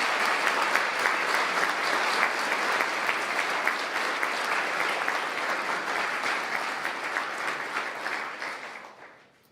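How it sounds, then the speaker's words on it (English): Loud, sustained applause from a big audience at a university graduation ceremony, thick and continuous, then tapering off and dying away in the final second. "So please join me in a round of applause for all the people that have made today possible."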